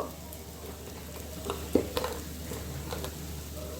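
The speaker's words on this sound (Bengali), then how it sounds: "নারকেল বাটাটা দেওয়ার পর একটুখানি ওটার মধ্যে এই 2-3 মিনিটের মতো ওটাকে একটু ফ্রাই করতে দেব।" Coconut paste frying in a pan makes a soft, continuous sizzle, with a few light stirring clinks near the middle and no speech.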